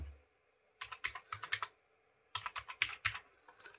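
An Aadhaar number is typed on a computer keyboard in two quick bursts of crisp, close key clicks separated by a short pause, with no voices.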